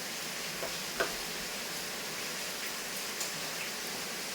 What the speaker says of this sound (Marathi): पाऊस खूप पडतोय